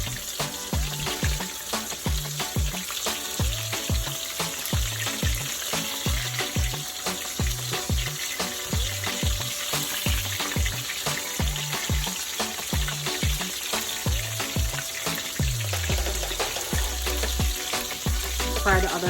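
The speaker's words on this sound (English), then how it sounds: "Fry the other side for another 2 minutes" Mustard-coated fish fillets frying in a pan give a continuous loud sizzle and crackle, with rhythmic low thumps and clatter of kitchen activity running beneath throughout.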